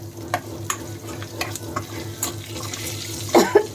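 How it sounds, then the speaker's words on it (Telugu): Cumin, chana dal, crushed garlic and curry leaves fry in hot oil as a tempering for a cooling summer chutney, giving a steady close sizzle with stirring scrapes and a louder spattering burst near the end. "చూడండి, తాలింపు వేగుతుంది."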